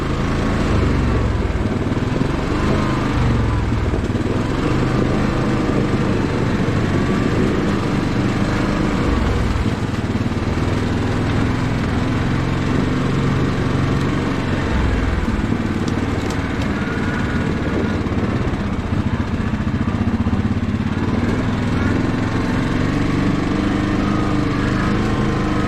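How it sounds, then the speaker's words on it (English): A 2021 Yamaha Grizzly ATV's engine drones continuously and close while engine braking on a snowy trail, a steady buzzing motor sound without speech. "Good engine braking on the Grizzly."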